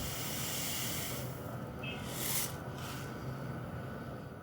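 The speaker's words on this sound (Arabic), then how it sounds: "اول حاجه هسخن طاسه فيها نقطتين من الزيت وعليها كيس لسان عصفور" Orzo pasta frying in a little oil in a hot pan gives a steady, close sizzling hiss that holds evenly throughout, with no one talking.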